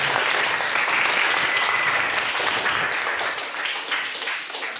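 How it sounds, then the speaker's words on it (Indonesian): A class claps together before a lesson, a loud, continuous wash of many hands close by that holds steady and tapers slightly near the end, with no talking over it. "Oh iya, tepuk tangan dulu semuanya dong."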